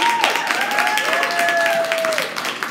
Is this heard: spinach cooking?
no